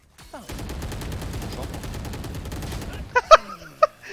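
Rapid automatic gunfire in the tactical shooter Valorant, a sustained burst of steady rattling shots followed by a few sharp, louder single impacts near the end.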